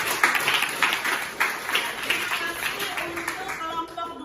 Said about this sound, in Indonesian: kita akan tepuk tangan dulu